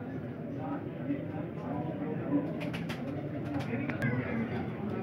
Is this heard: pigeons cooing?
yes